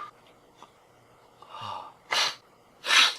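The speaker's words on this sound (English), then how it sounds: "hold on, I'm gonna sneeze." A person sneezes indoors, with a rising breathy intake followed by two sharp, loud bursts close to the mic, then quiet.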